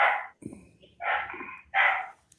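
A dog barks a few times indoors, with three loud, separate barks and a quieter yip between them, heard somewhat off-mic during a board meeting.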